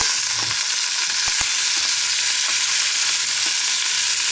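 Carrots and onion sizzle loudly in a hot pan with browned lamb shanks, a steady close frying hiss broken by a few soft stirring knocks.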